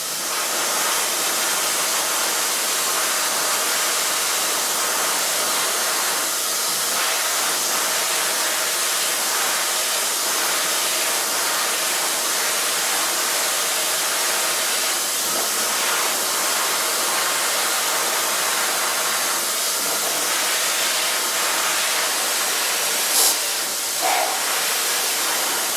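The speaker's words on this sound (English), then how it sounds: "So start blow drying with a medium brush." A hair dryer blows hair dry with a medium brush, a steady loud broadband rush of air running the whole time with slight shifts as the brush moves.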